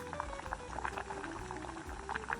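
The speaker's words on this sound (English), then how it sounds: "Now, just enough water to cover everything, the necessary dilution." Water running into a pan of braised mapo tofu to cover the ingredients, a steady bubbling, splashing liquid sound that stays close and fairly quiet throughout.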